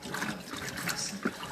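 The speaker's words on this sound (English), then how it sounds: "I'm gonna get some water in it." Tap water runs steadily into a cleaning container while Air Jordan 1 and LeBron Soldier V sneakers are washed, a continuous close splashing rush with small gurgles.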